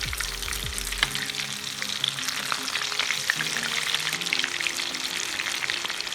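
Cornflour-coated chicken wings frying on high heat, giving a steady, close, even sizzle throughout, with a few brief knocks and clinks early on and no talking.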